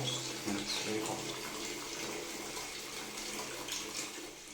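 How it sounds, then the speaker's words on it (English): Hot water gushing at full force from an electric geyser tap, a continuous close hiss and splash with no pauses. "Now you can see the force of the water. It's full force and it's very hot."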